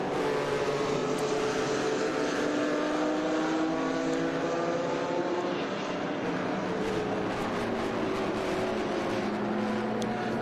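Vintage race cars lapping Watkins Glen during an SVRA race, with a continuous engine roar from several cars blending into one steady drone and no commentary over it.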